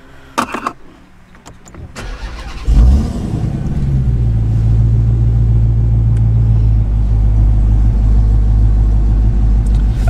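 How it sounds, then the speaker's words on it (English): A Dodge Hellcat V8 engine at an autocross event, with a few clicks and thumps before it cranks and catches, then settles into a loud, deep, close idle with a steady rhythmic lope. "This thing seriously has a little bit of lope in the cam from the factory."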